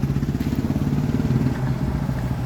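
Kawasaki ZXR Ninja motorcycle fitted with an Austin Racing exhaust, idling close by with a loud, steady, throbbing rumble of rapid regular pulses and no voices over it.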